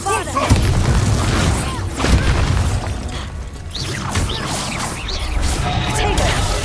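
The Bombarda explosion spell from the game Hogwarts Legacy goes off in loud, crashing booms with debris-like bursts, several impacts over a few seconds mixed with other game effects and a character shouting spell names.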